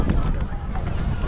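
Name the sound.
wind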